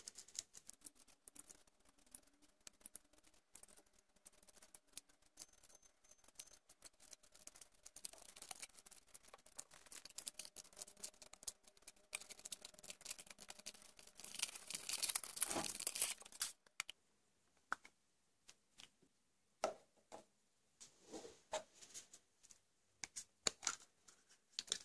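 Foil wrappers being peeled off Kinder Surprise eggs, Little Pony edition for girls: faint, close crinkling and tearing that rises toward a louder rustle midway, then scattered soft crackles.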